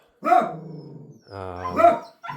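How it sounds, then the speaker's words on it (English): Guard dogs bark indoors in a room of a property being viewed, two loud close bursts of deep barking with growly harmonics, a short third bark starting at the end. "You got some good guard dogs doing their job."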